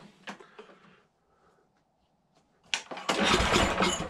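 A Toro snowblower engine is pulled over on a cold day of about 40 degrees, a few brief cranking bursts, then a quiet pause before the engine catches and roars loudly and steadily up close.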